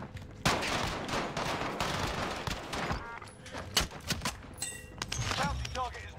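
Gunfire in a shooter video game: heavy bursts of automatic fire and sharp separate shots, loud and close, with electronic beeps and effects mixed in near the end.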